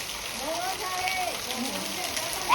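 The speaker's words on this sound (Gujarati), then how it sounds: "મમ્મી વરસાદ કેવો આવે એ" Steady rain pours down outside a home flooding with water, a continuous hiss with voices talking over it and a louder burst near the end.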